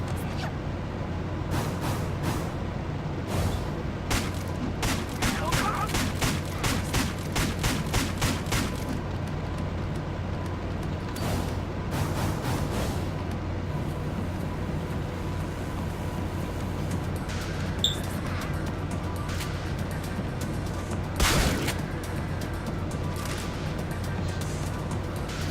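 Rapid bursts of gunfire from the video game Deadbolt crackle in quick volleys, with dense clusters of shots early, more scattered shots later and a heavier impact near the end, all over a steady low game hum.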